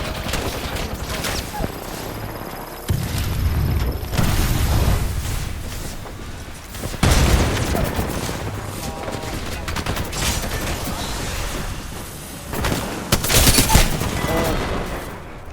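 Rapid bursts of gunfire from the video game Apex Legends, loud repeated volleys in clusters with gaps between them, mixed with game effects and heard under overlapping player chatter.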